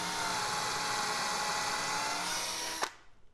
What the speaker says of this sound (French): Puis, nous le perçons droit avec la même mèche de 10.